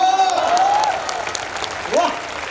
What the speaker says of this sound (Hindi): इस पर भरपूर तालियां बजनी चाहिए।